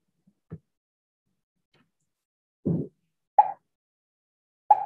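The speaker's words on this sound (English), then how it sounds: "it should make a pop sound" Three short, bright pops from a Scratch game sound effect sound one after another with silent gaps between them, preceded by a softer low thump.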